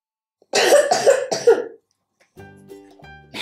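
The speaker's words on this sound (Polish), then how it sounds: "Ale ma kaszel." A cough repeated three times in quick succession, loud and close, followed after a short pause by light clicking and rattling of small Peppa Pig Stikeez toy pieces.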